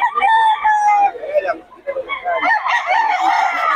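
A White Leghorn rooster crows loudly and close by, a long strained call followed by a second rougher crow, with a voice talking faintly in the background.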